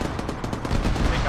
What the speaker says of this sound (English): I need you to take him out with the 50.